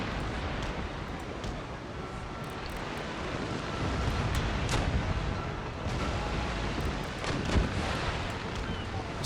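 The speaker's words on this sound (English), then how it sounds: "that frigate can really pack a punch with those broadsides" Frigate broadside cannon fire in the naval battle game Empire: Total War, a string of heavy booming shots and sharp cracks scattered over a constant roar of battle noise.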